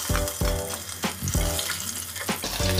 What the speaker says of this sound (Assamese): আদাখিনি অকমান ভাজি লওঁ